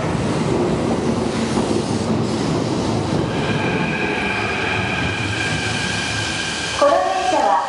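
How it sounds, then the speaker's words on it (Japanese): A six-car Keikyu Line commuter train bound for Uraga rumbles steadily into Shinagawa Station, wheels grinding and clattering, with a brief metallic squeal near the end. "この電車は6両編成、浦賀行きです。"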